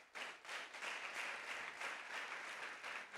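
A church congregation applauds, a faint but steady patter of many hands clapping in quick rhythm, continuous for a few seconds with no talk over it.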